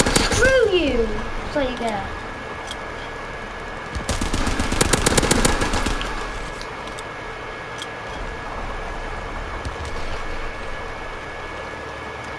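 A video game gun fires a rapid, loud burst of automatic shots around the middle, with a few earlier pops and a player talking.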